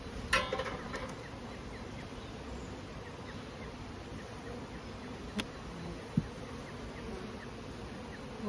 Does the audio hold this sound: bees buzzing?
yes